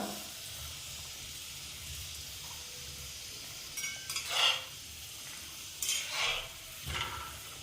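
Kachori frying in oil in a wok, a steady soft sizzle with a few louder bursts of bubbling and stirring, close up and without talk.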